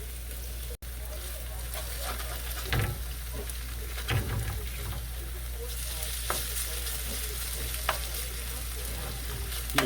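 Hash browns sizzling steadily in a hot skillet while being flipped with a spatula, continuous frying hiss with a few scraping turns, close, with a voice speaking intermittently over it.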